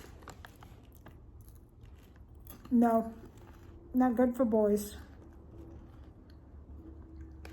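Crunchy dill pickle corn puff snacks from a large bag are munched up close in two loud bursts of crisp biting and chewing, with a voice speaking between them.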